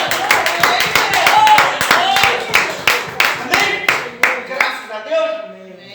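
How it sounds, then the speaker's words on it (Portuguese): A church congregation claps steadily, a dense patter of hand claps with sharper bursts, tapering off toward the end while a voice briefly sounds over it. "Uma linda salva de palmas."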